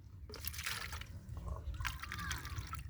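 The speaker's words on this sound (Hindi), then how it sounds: "इसको 8 प्याली हम पानी का डालेंगे" Water is poured into a four-litre sprayer pump to mix a fungicide for tomato plants, a faint trickling and splashing that runs unevenly through the few seconds.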